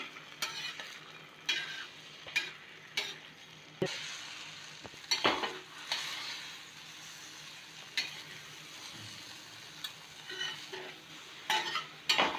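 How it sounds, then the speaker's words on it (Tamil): Scrambled egg (muttai kalakki) being stirred in a pan with repeated scraping strokes and a soft sizzle underneath. The strokes come in an irregular rhythm, close and clear, with no talking. "உடனே நம்ம கொஞ்சம் ஒரு 2 மினிட்ஸ்லயே நம்ம கலக்கி விட்டுறணும் இந்த மாதிரி"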